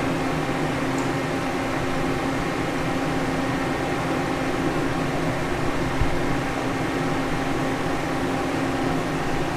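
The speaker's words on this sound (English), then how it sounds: "I'll actually fire the machine up, and you'll be able to see the oil move just a little bit." An old CNC machine with its oil pump running, a loud, steady mechanical hum and whir held evenly throughout without pause.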